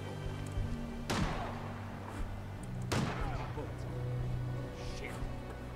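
Gunfire in a video game, two sharp loud shots a couple of seconds apart with short decaying tails over ambient game background and faint speech.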